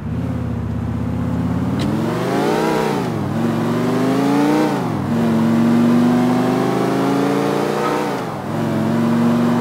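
A car in GTA: The Ballad of Gay Tony drives along, its engine loud and close with a steady mid-pitched hum that rises and falls as the driver revs and shifts, and no talk over it.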